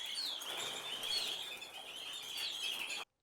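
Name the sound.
birds chirping, story sound effect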